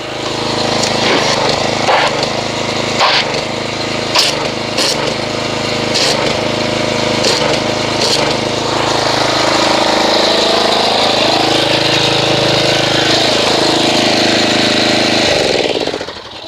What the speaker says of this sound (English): So I'm going to go ahead and get the pressure washer and we'll see what kind of foam it just makes.